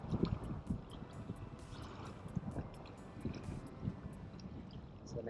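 A sailboat's engine runs at 2,000 revs in reverse while anchoring, producing a faint, steady low churning rumble mixed with wind and water noise.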